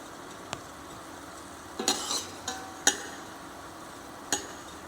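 Brown sauce ingredients saute in a pan over a quiet background sizzle, punctuated by several sharp metallic clinks and scrapes of a utensil against the pan.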